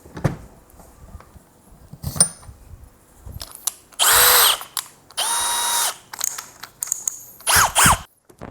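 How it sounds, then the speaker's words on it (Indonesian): A Bosch GSB 185-LI cordless brushless hammer drill drills into metal in several short bursts, each spinning up with a rising whine and cutting off, separated by quiet gaps and clicks. "Jadi untuk ngebor besi saya rasa udah nggak ada kendala."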